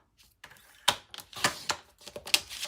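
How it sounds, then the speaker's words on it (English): A blade slices through craft paper in a few quick scraping strokes, each short and crisp, close by with no talking. "I'm gonna cut this one in half at 2 1/8"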